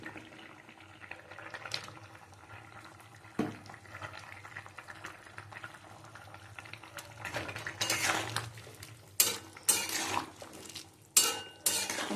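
Fish going into a pot of boiling taro curry, with metal utensil clinks and pot clatter against a steady simmering bubble, the splashes and scrapes growing louder and more frequent toward the end.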